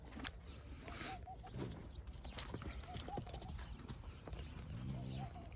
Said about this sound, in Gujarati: આ ઘોડી છે આપણી.